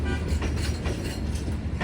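Pangandaran passenger train with a panoramic carriage rolling past, a steady loud broadband rumble of wheels and carriages with faint rhythmic clatter throughout.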